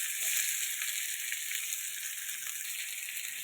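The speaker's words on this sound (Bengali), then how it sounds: "কড়াইয়ের মধ্যে আমি তেল আর পেঁয়াজ আর দুটো শুকনো মরিচ দিয়েছি" Onion and two dried chillies fry in oil in a wok, giving a steady, close hiss of sizzling that holds evenly throughout, with no voices.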